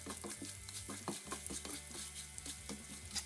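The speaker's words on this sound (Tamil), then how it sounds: "எண்ணெய் கொஞ்சம் சூடு வந்த பிறகு பெருஞ்சீரகம், கொஞ்சம் கடலைப்பருப்பு, கடுகு, கருவேப்பிலை, செத்தமிளகாய் எல்லாத்தையும் போட்டு கொஞ்சம் தாளிக்க வேணும்" Spices including fennel, chana dal, mustard seeds, curry leaves and dried red chillies crackle and sizzle in hot sesame oil, with steady popping and frying noise and a low background hum, no voices.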